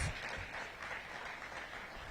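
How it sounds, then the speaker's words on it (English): An audience applauds the Duke Ellington student ensemble at a morning event, a soft, steady patter of clapping heard from a distance. "Please give them an outstanding round of applause."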